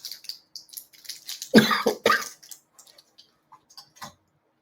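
Several close, dry coughs in a short burst from a dry throat, followed by a few faint clicks and small mouth noises in an otherwise quiet room.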